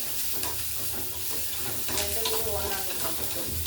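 Tomatoes frying in a pan for kuzhambu, a continuous close sizzle with occasional spatula stirring and scraping, moderately quiet and with no voices.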